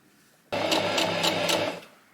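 A sewing machine runs in one short burst of about a second, a rapid mechanical whir with rhythmic needle pulses, stitching the rolled hem of an 18th-century slip skirt, close and clear with no talk.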